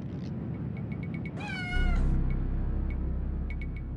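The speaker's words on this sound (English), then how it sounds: "Someone just throw that cat off camera." A single drawn-out domestic cat meow from the Phantasmagoria computer game rises and falls in the middle, fairly loud and close, over a steady low background hum with faint intermittent clicks and no talking.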